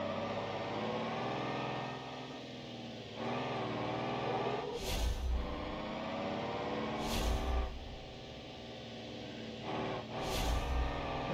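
A heavy loaded truck drives in BeamNG.drive, its engine droning steadily with shifting pitch as it pulls hard, broken by three sharp hissing bursts of air release.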